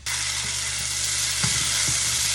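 Fish sauce ingredients fry and get stirred in a pan with a steady, loud broadband sizzle throughout, a low hum beneath, and a few soft stirring knocks.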